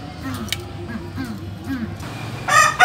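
A group of caged, moulting decoy birds calls with short chirps that grow louder and brighter near the end, heard under a person talking close by.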